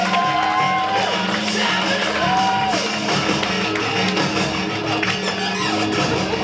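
Comedy club audience at a Toronto showcase cheering, whooping and applauding, a dense continuous wash of crowd noise with shouts rising above it throughout.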